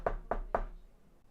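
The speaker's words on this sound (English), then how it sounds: "Rem's gonna go knock on Thorin's door" Knocking on a door: three quick, evenly spaced knocks, close and crisp, then a short quiet tail.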